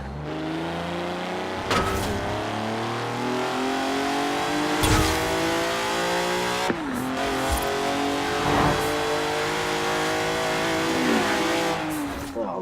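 Hot Wheels Twin Mill car in the Forza Horizon 4 racing game, a loud engine revving and shifting through gears with rising and falling pitch sweeps, several sharp gear-change breaks, continuous and close.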